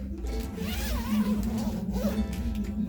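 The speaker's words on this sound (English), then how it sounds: "then close the zip" A zipper is pulled shut along the fabric cover of a folding baby bassinet, making one continuous raspy run of about three seconds over a steady low hum, with no talk.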